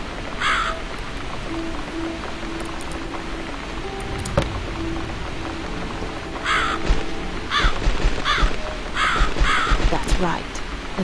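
Crow caws in a video game, a few harsh calls repeated in bursts toward the end, heard over game ambience and rain-like background noise, with a person talking.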